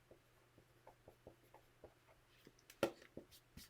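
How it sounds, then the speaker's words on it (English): A pencil or pen writing a sentence by hand on paper during a math lesson, soft rhythmic scratching strokes in quick short bursts, faint and close, with one sharper tap partway through and no speech. "I guess I should write a sentence."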